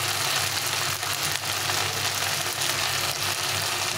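Spiced masala with salt and turmeric frying in a pan for a fish curry makes a soft, continuous sizzle and crackle, fairly quiet and steady, with no voices.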